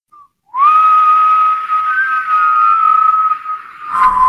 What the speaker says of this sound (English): just whistle and hold a very, very constant pitch